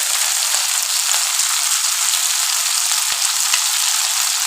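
Small fresh tangra fish fry in hot oil with a steady, loud, unbroken hiss and crackle, punctuated by a few faint low knocks, with no voices.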